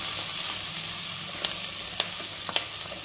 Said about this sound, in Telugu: దీంట్లోనే పచ్చిమిర్చి కరివేపాకు కూడా వేసేసుకోవాలి. వేసుకొని కొంచెం కలర్ వచ్చిందని ఫ్రై చేసుకుందాం.